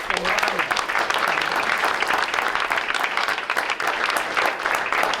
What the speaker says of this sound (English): let's have a big round of applause for all of these young people